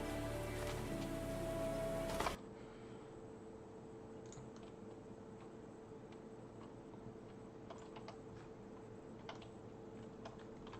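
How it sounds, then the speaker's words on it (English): Acid rain falls steadily in an Unreal Engine 4 game level, a soft continuous patter with scattered small drop ticks, heard alone after a brief louder burst at the start. "Acid Rain, what's going on?"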